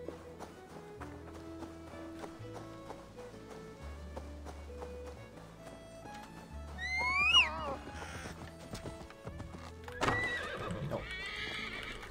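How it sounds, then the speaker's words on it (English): A horse in Assassin's Creed Valhalla whinnies shrilly and gallops with rhythmic hoof clops over game music, followed by a second burst of neighing and clattering hooves. "Ah, the horse actually hit Draven"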